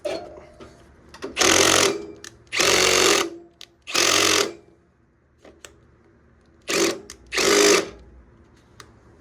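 An electric drill spinning a spool whirs in several short, loud bursts separated by pauses, with faint handling clicks in between.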